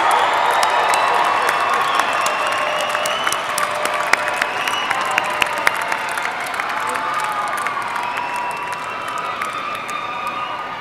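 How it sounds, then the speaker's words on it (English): A large crowd at a university summer and fall commencement ceremony erupts in loud, sustained applause mixed with cheers and whoops, a dense roar of clapping that stays strong across the whole stretch. "give them a round of applause"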